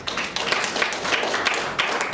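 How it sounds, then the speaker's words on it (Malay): An audience applauds for Cik Hairi at a sharing talk in a hall, a dense, steady patter of many hands clapping close by for a couple of seconds. "rakan saya tepukan untuk Cik Hairi"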